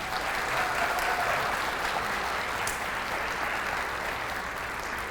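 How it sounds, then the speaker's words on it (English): Sustained applause from a school audience at a kindergarten graduation ceremony, a steady dense wash of clapping hands at moderate level that holds evenly for several seconds with no talk over it. "would you please give Miss Angie Vance and Miss Kendra Fulkerson a round of applause"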